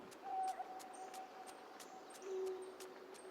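An owl hoots quietly in the video game Carto, a few soft tonal calls over a faint background hum with repeated light ticks.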